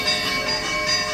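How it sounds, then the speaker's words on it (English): Church bells of the Church of St. Joseph in Palermo ring out at ten o'clock, a brief burst of sustained bright metallic tones heard on a city street. "we have some church bells going off"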